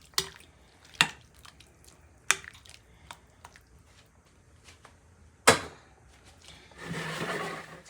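Cabbage soaked in hot salted water is stirred in a pan, giving a few sharp knocks and wet clacks at irregular intervals, then a longer sloshing, rustling stretch near the end, close and fairly quiet.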